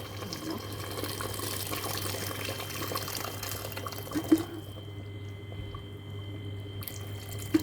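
Hot water poured into a pot of cooking meat for a Moroccan meat, potato and pea stew, a steady watery rush that breaks off midway, leaving a quiet hum with a couple of faint clinks.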